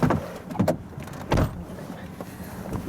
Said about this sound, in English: Shut the door properly.